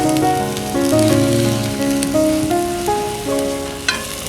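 Food stir-frying in a pan over an outdoor campfire, with a loud steady sizzle and crackle, clinking stirs and tonal music playing over it.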